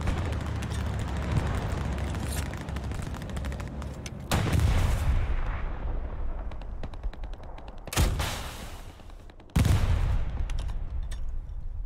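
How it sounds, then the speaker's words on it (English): Booming tank cannon fire and rattling gunfire in a World War II video game battle at the siege of Bastogne, with three heavy blasts punctuating a dense, continuous din of shooting. "Oh yeah, that's the tank"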